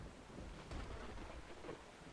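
Faint rain and a low thunderstorm rumble blend into a quiet, steady wash, with a soft swell partway through and no voices.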